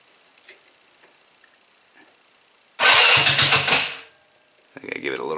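A 150cc go-kart engine cranks and fires, running loud and rough for about a second before dying, then catching again briefly at the end; soft handling noises come before it, and a voice talks around it.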